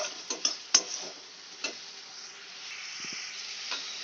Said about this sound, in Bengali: আমি টমেটোটাকে খুব ভালো করে কষিয়ে নেব যতক্ষণ না পর্যন্ত এর থেকে তেল ছাড়ছে।